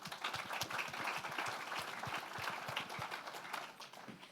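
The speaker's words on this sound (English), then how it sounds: "So let's give one more round of applause for those startups." Sustained audience applause fills a startup showcase event hall, dense and steady throughout with scattered sharper claps standing out.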